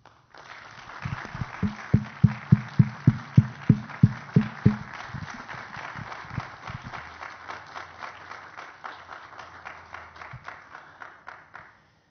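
A crowd at an Estado de México flu vaccination campaign launch breaks into applause for health sector staff: loud rhythmic unison claps at first, then a long stretch of looser, sustained clapping fading toward the end.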